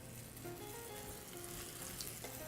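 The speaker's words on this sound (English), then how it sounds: "into the dry batter and straight into the hot oil" Battered fish in hot oil in a pan gives a steady, faint sizzle with fine popping crackles throughout. It stays close and continuous, with no voice over it.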